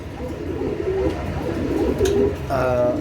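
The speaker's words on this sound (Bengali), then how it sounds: "এখানে একজোড়া কবুতর আছে আপনারা দেখেন" Pigeons cooing at a farm, a pair of soft low coos rising over a constant murmur of birds and background noise, near and fairly loud.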